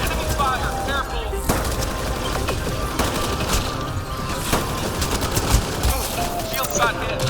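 Enemy gunfire in the video game Mass Effect Andromeda: dense, constant rattling bursts and sharp shots crackle without a break, loud and close, with voices calling out now and then.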